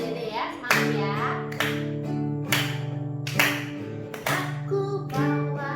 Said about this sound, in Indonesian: Kita tepuk tangan ya adik-adik ya,